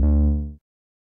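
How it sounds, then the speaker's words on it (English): A single deep jazz bass note from the Arturia Analog Lab V software instrument sounds alone, loud at the attack and fading quickly over about half a second before silence. "my jazz bass sounds like this."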